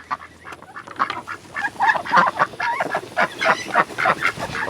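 Several ducks in a muddy old pig wallow quack and chatter together in a busy, overlapping stream of nasal calls, close by and fairly loud, with no talking.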